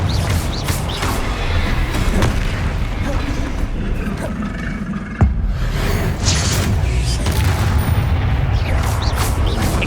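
Confringo spell blasts in the Hogwarts Legacy video game, heard as dense, loud booms and bursts, with one sharp crack near the middle, all over continuous battle noise and music during a fight with a troll.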